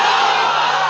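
A large crowd at a religious sermon gathering roars the takbir chant response in unison, one loud, sustained, close collective shout filling the whole moment.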